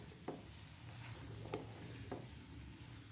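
Vegetables cook in mustard oil over a medium flame, a soft steady sizzle with three brief stirring clicks spread across the stretch, fairly quiet and without talk.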